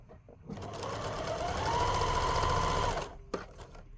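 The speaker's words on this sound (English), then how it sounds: "then you stitch to the end of that lining" A sewing machine stitching a patchwork stocking lining runs in one steady whirring burst of about two and a half seconds, close up, followed by a couple of brief clicks.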